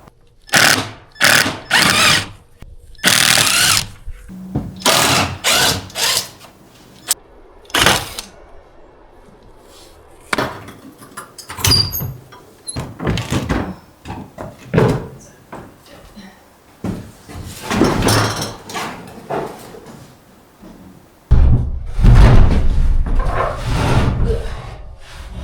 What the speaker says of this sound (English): Let's take off the door.